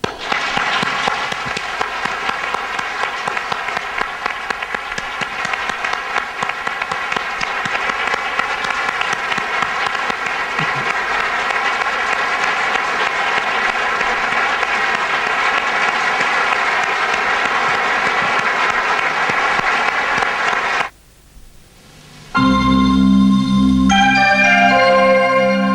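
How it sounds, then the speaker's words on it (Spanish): A crowd claps warmly for a departed friend, dense sustained applause rolling on for about twenty seconds before cutting off abruptly, followed by a brief loud burst of music. "Dediquémosle nosotros un aplauso caluroso a este gran hombre y gran amigo que se nos fue"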